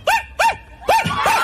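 A man imitates a dog barking, giving four short, yelping woofs in a quick uneven series, loud and close with no other sounds around them.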